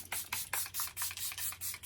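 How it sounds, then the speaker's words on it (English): Setting spray misted onto a face during makeup application, a series of quick, soft hissing pump bursts in a steady rhythm, close and quiet over a low background hum. "I'm going to go ahead and take the setting spray one more time"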